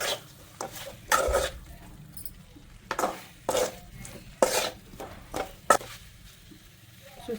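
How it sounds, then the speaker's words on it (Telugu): Chicken fry stirred with masala in a pan, a series of close, distinct scraping strokes of a spoon against metal over a low sizzle, arriving in an uneven rhythm. "మొత్తం మసాలా వేసేసుకున్నాక మంచిగా కలుపుకోవాలి."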